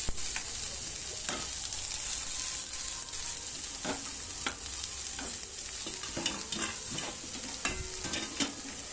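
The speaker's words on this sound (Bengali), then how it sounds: "একটু ভেজে নিচ্ছি হালকা করে খুব বেশি ভাজবো না" Steady oily sizzle of onion and bottle gourd peel frying, with occasional scraping and stirring clicks from a spatula, close up and continuous with no talking.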